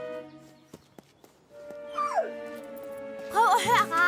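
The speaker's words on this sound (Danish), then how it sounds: "Det er en hund. En redderhund." A cartoon rescue dog whimpers and whines nearby in rising, wavering cries, with a few sharp knocks first and a tonal hum underneath.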